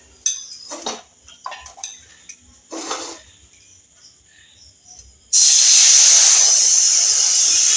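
Patishapta batter poured into a hot oiled wok bursts into a loud, sustained hiss after a few quiet clinks of utensils and kitchen handling noise.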